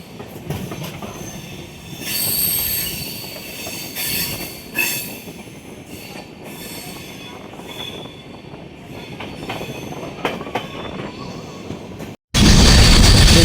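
Amritsar-Bikaner superfast express rounding a curve, steady rumble of rolling carriages with high squealing wheel flanges rising and falling, close and loud, then an abrupt burst of louder noise at the end.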